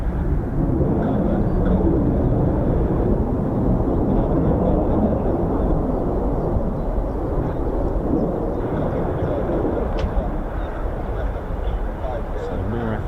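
F-35 fighter jets returning to RAF Lakenheath, a steady broad roar of jet engines lingering through the whole stretch, with distant rumbling character and no voices.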